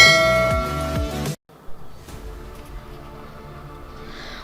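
Short bell-like notification chime for a subscribe bell icon, a bright ringing tone that cuts off abruptly, followed by faint trailing sounds and a brief spoken word.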